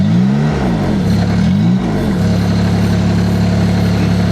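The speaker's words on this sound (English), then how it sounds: "See, as I step on the gas." A compact loader's diesel engine revs twice as the throttle is pressed, each rise and fall clear, then holds at a steady low hum; the sound is loud, close and free of talk.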